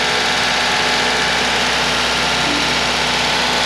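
A gasoline car engine with multiport and direct injection idles steadily while cleaning fluid is fed into its fuel and intake system, giving a loud, even hum without noticeable change.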